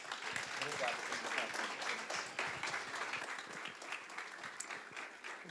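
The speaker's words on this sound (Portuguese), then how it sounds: "Aplaudamos ao Senhor." A church congregation at an evangelical worship service applauds, sustained dense clapping filling the space at steady loudness, with voices mixed into the crowd.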